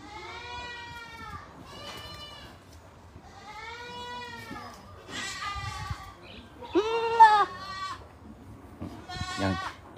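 A Boer goat kid under a month old bleats repeatedly on a farm, giving several wavering, nasal cries in a row, some louder and closer than others, with faint voices in the background.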